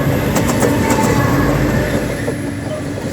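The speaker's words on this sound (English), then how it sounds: "Still long train." A long freight train of steel coil wagons and hoppers rumbles past close by on the Stony Point line in Australia, wheels clacking rhythmically over rail joints with a steady heavy roar.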